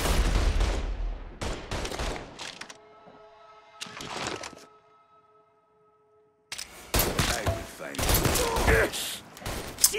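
Bursts of rapid gunfire from the video game Mafia 3 come in loud clusters separated by quiet gaps, with a lingering ringing tone between volleys.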